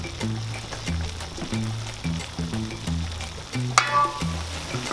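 Beef tripe simmering down in a pan for paklay, a steady close sizzle and bubbling hiss with a low rhythmic thumping pattern beneath, plus a brief sharp clatter near the end.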